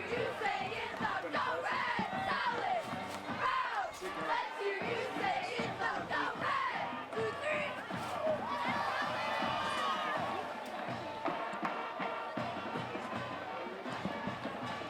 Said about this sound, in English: Well, the crowd is happy